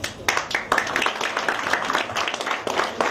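A church congregation at a service led by Pasteur Moïse Laurent breaks into loud, dense applause, a continuous wash of many hands clapping close by, with voices mixed in.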